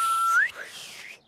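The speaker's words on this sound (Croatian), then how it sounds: "Za zviždanje treba puno vježbe." A child attempts to whistle through pursed lips, giving a thin breathy tone that rises briefly before breaking into airy blowing, close and fairly loud, fading out after about a second.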